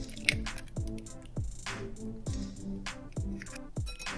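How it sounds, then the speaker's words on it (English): Clafoutis batter of sugar, salt, vanilla and egg is whisked briskly in a bowl, giving a steady run of wet, squishy strokes with regular clicking beats, close and moderately loud. "whisk vigorously until everything is well combined and the batter is smooth"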